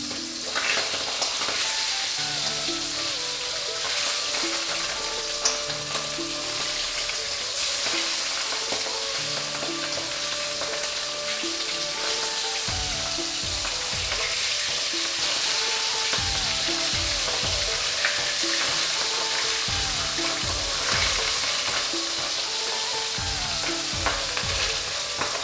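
Pabda fish fry in mustard oil in a wok, a loud, steady sizzle with occasional clinks and scrapes as the pieces are turned, and no one speaking.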